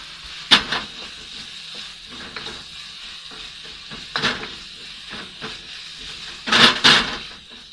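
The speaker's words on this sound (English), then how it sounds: "I like to add the red and green peppers, just to fry them off really" Red and green peppers fry in a pan aboard a 38 ft Princess motor yacht galley, a steady low sizzle with a few sharper bursts of crackle and stirring, the loudest near the end.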